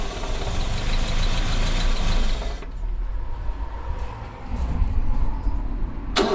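An Austin Ambassador car engine cranks and catches, running loudly and roughly for a few seconds before cutting out, then there is a short quieter stretch before it turns over again near the end.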